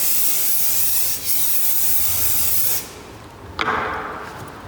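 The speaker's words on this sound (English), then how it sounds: "You can also use hairspray if you don't have a fixing spray" A long, loud aerosol of makeup fixing spray hisses continuously for a few seconds, stops, then a shorter spurt follows, close up and alone.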